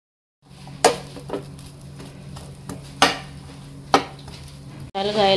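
Knife chopping onions and tomatoes on a board for Goan mankyo masala, a few sharp cuts at uneven intervals with light clatter between, ending in a brief burst of noise.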